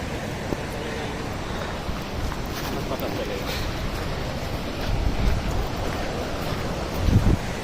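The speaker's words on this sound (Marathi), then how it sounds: "बघा धबधबा धबधबा" Waterfall at Harishchandragad (Kalu waterfall) on a mountain trail: a steady, loud broadband rush of falling water fills the whole clip, with wind buffeting the microphone and a few thumps near the end.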